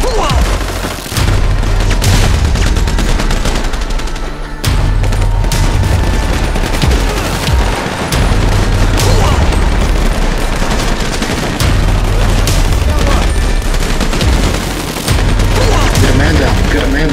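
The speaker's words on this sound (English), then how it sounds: "More incoming enemy fire!" Enemy gunfire in GTA 5, sustained loud bursts of automatic weapons and booming shots firing almost continuously, dense and chaotic with brief gaps between volleys.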